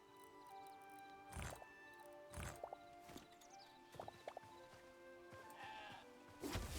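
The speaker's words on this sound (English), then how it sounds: "Run, little sheep." Sheep in the game Hytale bleat several times in short wavering calls over a quiet ambient background, with a few small wet squishing sounds between them and a louder burst at the end.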